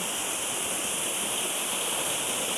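Water pours steadily over a small waterfall near Tamkane cave, a continuous broadband rush with no break or voices, moderately loud and unchanging throughout.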